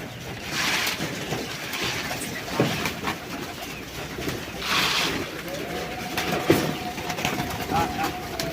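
Pigeons kept at a home coop, with soft cooing amid outdoor background noise and a faint tonal hum, over about eight seconds.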